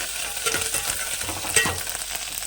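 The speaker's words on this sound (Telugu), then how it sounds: "ఫస్ట్గా చక్కగా ఎండుమిరపకాయలు ఎగుతున్నాయండి" Dried red chillies and curry leaves frying in hot oil in a pan give a steady close sizzle, broken by a few louder crackling bursts as the spices pop, with no voices.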